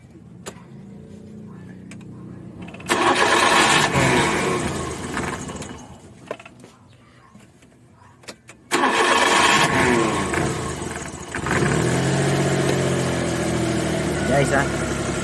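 Car engine cranking and starting, then running loudly while an ignition coil is tested, with a quieter stretch and a sharp restart partway through and speech in the background.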